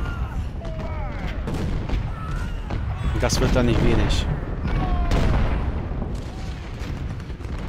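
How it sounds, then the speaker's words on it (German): Heavy booming cannon blasts and rumbling explosions of in-game battle fire in Ultimate General: Civil War, with a person talking over the barrage. "Aber die Kanonen schießen raus, das ist ganz gut."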